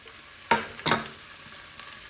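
Onions sautéing in a frying pan: two short, loud bursts of stirring and sizzle about a third of a second apart, followed by a faint, low background.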